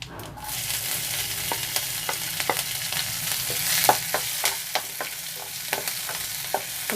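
Green chilies fry with cumin seeds in a pan, a steady sizzle punctuated by regular, close scraping and clinking strokes of a spoon stirring the mix.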